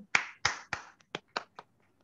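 A few scattered hand claps in a communication training course session, about seven sharp separate claps, loud at first and growing quieter, close by with no talking.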